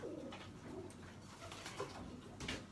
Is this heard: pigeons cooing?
yes